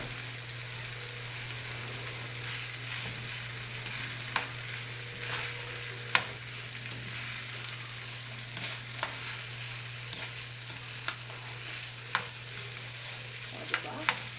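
Kimchi rice frying in a pan after kimchi broth is poured in, a steady sizzle running throughout with a constant low hum beneath and occasional sharp clicks of a utensil stirring against the pan.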